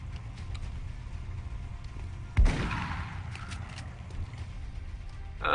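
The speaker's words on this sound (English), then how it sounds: "In that case, I'm going to shoot with a shotgun." A single loud shotgun blast in XCOM Long War cracks out midway and rolls into a decaying boom, with quiet game ambience before and after.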